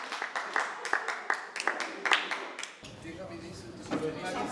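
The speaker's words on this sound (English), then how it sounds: "let's give a big round of applause" Applause at a community work group meeting, a few seconds of moderate clapping from a small group in a room that stops abruptly, followed by faint room murmur.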